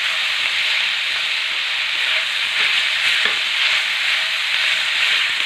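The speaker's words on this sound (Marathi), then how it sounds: "आता टोमॅटो मऊ होईपर्यंत आपल्याला हे छान असं एकसारखं हलवत परतून घ्यायचं आहे" Chopped tomatoes with salt sauté in a pan for a paneer curry, a steady close hiss and sizzle filling the whole stretch, with faint scrapes of stirring now and then and no voices.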